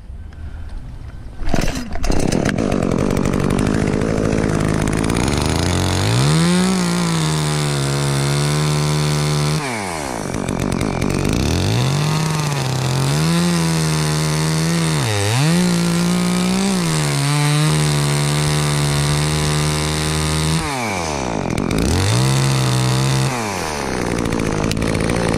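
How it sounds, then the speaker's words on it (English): A chainsaw snap-cuts a nub off a dead ash tree that has a cracked crotch. The engine revs hard again and again, bogging and rising as it bites, very loud and close for about twenty-five seconds with no talking. "I'm just cutting this one nub off. I'm gonna do a snap cut."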